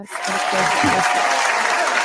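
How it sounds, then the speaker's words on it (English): A brief burst of clapping from a small audience at a barber-focused podcast event, close and continuous for about two seconds with voices underneath. "Can you give yourself a clap for that?"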